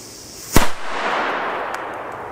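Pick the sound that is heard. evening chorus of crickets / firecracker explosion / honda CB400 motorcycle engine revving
firecracker explosion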